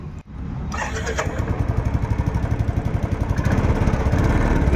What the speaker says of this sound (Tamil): வண்டி எப்படி இருக்குன்னு சொல்லி ஸ்டார்ட் பண்ணி காட்டுறேன் பாருங்கள்